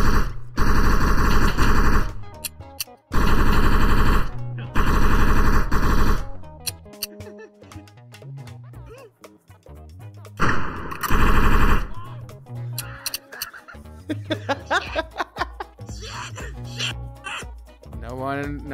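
Gunfire in a VRChat battle royale video game, rapid bursts of automatic shooting alternating with single shots, loud and dense, mixed with game sounds and talking voices.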